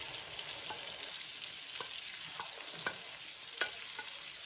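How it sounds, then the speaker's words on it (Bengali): Prawns fry lightly in a pan with a steady, close sizzle, broken by a few soft scrapes and clicks of stirring; no one speaks. "চিংড়ি মাছটা হালকা যখন ভাজা হবে"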